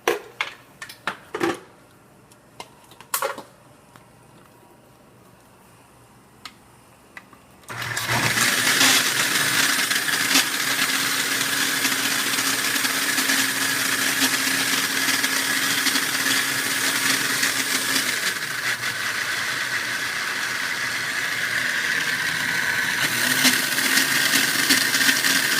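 Blender liquefying boiled tomato for Spanish rice, starting after a few clunks and taps with a sudden loud whirring roar that runs steadily and close for many seconds.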